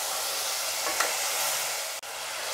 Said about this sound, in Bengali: আমার সমস্ত মশলা দেওয়া হয়ে গেলে এবার এটাকে ভালো করে ভাজা করে নিতে হবে,